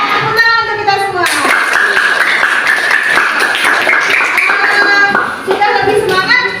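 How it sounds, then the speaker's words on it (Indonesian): A classroom of students bursts into applause during a guidance and counseling lesson, a dense, close burst of many hands lasting several seconds, mixed with children's voices and chatter before and after. "Tepuk tangan untuk kita semua"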